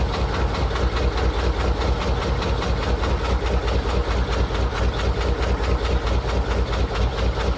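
A Rolls-Royce engine is barely running on too little fuel, with a suspected SU carburettor problem. It gives a steady, rough, pulsing idle that is loud and continuous throughout, with no talking.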